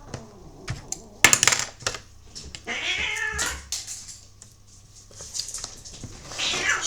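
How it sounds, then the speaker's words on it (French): Cats fighting indoors, with sharp yowls and hissing bursts scattered over several seconds amid small clattering noises, moderately loud and close. "j'ai une bagarre de chat qui n'était pas prévue"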